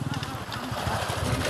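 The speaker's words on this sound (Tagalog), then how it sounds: "Ayun, may dumadaan ng mga motor." Motorcycles pass along a street outdoors, a continuous rough engine rumble that fills the clip at moderate loudness, with pulsing low throb and no clear voices.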